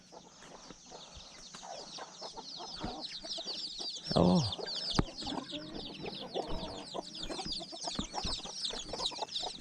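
Chickens cluck and chatter in a busy barnyard chorus, with a louder squawk partway through and a brief spoken exclamation.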